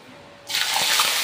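Tap water gushing into a container in an outdoor hut kitchen, starting abruptly after a quiet moment and running steadily and fairly loud, with no talk.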